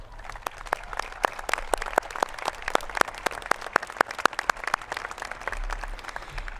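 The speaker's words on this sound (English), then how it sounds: "give your parents, brothers, sisters, grandparents, aunts, and uncles a huge round of applause" Families are applauded at the SM West 2016 high school commencement ceremony: a moderate audience claps in a dense, uneven patter of distinct hand claps, steady for several seconds at a medium distance.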